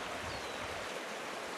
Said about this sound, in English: I'm not sure you can hear it, but yeah, we got water running